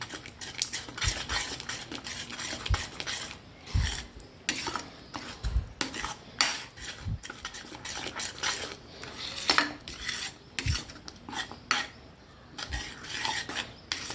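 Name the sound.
spoon stirring turmeric and chili into a pan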